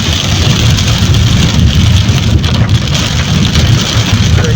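Steady rain pours during a car journey on the road to Dhemaji, a dense, even hiss with low rumble from the moving vehicle running unbroken throughout, fairly loud and with no voices.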